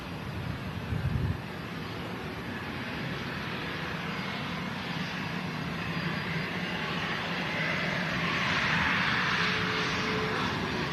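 Logan Air Embraer jet arriving from Newquay, a steady broad engine roar heard outdoors at an airport with wind noise, swelling slightly louder toward the end as it nears.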